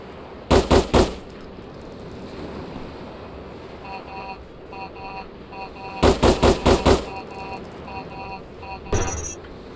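Video game gunfire: rapid bursts of three to five loud automatic shots, a cluster near the start, a longer burst in the middle and a short final burst, separated by quieter electronic tones and background noise.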